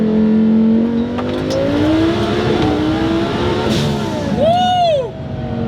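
Interior engine roar of a 2600 HP twin-turbo Lamborghini accelerating hard, loud and sustained, with rising pitch through gear changes and a brief turbo whistle near the end.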